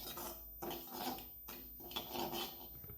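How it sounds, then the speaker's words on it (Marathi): Semolina (rava) roasting in a pan over a medium gas flame, turned with a spatula in soft, rhythmic scraping strokes, faint and close, with no voices. "हा रवा आपल्याला असं छान प्रकारे भाजून घ्यायचा आहे आणि हा थोडासा मोठा असल्यामुळे याला थोडासा वेळही लागतो भाजण्यासाठी"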